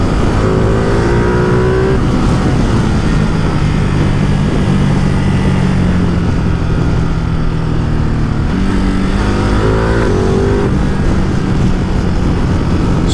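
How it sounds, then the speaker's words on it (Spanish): A Ducati Multistrada 950S motorcycle with its catalytic converter removed, running on only the stock exhaust tip, roars loudly and steadily while riding, with its engine pitch rising and falling through gear changes and no talk. "Suena muy bacano porque a esta le quitaron el catalizador, entonces tiene solamente la punta original de ella, entonces el sonido es muy bacano."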